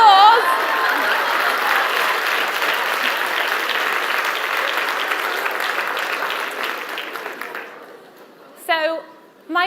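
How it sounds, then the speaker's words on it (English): A TEDx audience in Manchester claps loudly in a dense, sustained burst that fades over several seconds, then trails into quiet. A voice speaks briefly near the end. "Big round of applause."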